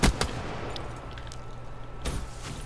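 M14 rifle fire in a video game: a sharp shot at the start with a quick follow-up, then another report near the end, set over steady game background noise.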